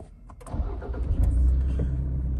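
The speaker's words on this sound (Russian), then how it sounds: "Запускается идеально, никаких ошибок не горит." A 2012 Toyota Land Cruiser Prado engine cranks briefly and catches, then settles into a steady, close idle rumble, with no talking.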